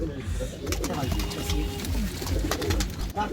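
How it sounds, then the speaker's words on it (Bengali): Rajshahi Girbaz pigeons on a farm coo softly while being fed paddy, with scattered pecking clicks and a steady background murmur. "কবুতরকে ধান খাওয়াচ্ছে"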